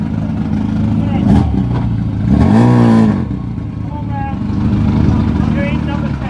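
Mini racing cars at Thruxton circuit, at the Mini 7 Racing club's 50th meeting, pass with a loud engine note that rises and falls, mixed into steady background noise with voices talking throughout.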